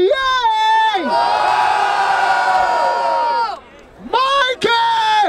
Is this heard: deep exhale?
no